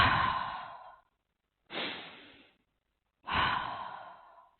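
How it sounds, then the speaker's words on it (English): Three loud, slow breaths during meditation, each a long airy exhale or inhale close to the ear, separated by short silent pauses. "we keep our attention on that sound of our loud breathing"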